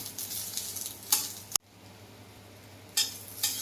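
Roasted corn sautéing with onion, garlic and masala in a pan gives a steady soft sizzle, with a few sharp clinks of a spoon against the pan and a brief break in the middle.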